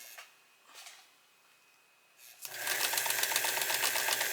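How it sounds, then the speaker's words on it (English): A sewing machine stitches quilt blocks with a quarter-inch seam. A faint rustle comes first, then the machine starts and runs loud, steady and rapid for the last two seconds. "you just put the blocks together and sew 1/4 inch"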